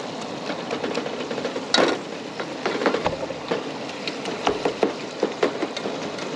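Browned burger meat being stirred into a bolognese sauce of tomato and meat, with irregular scraping and knocking of a spoon against the pot over a low background.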